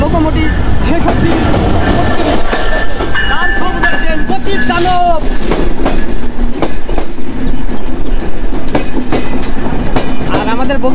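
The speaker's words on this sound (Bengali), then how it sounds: "ফাইনালি সে চিত্রা এক্সপ্রেস ট্রেনটি চলে এসেছে, তার লোকোমোটিভ শেষ অবধি" The Chitra Express passenger train and its locomotive arrive at Alamdanga station: a loud, continuous rumble with clickety-clack of wheels, brief squeals and horn-like tones. Voices are faintly mixed into the din.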